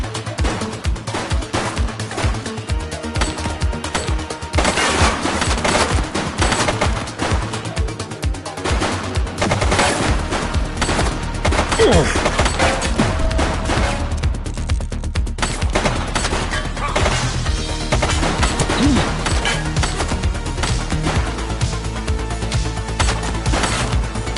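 Gunfire in the PS5 police game The Precinct: dense, rapid bursts of shots, loud and continuous across the whole stretch, like a sustained firefight with no speech on top.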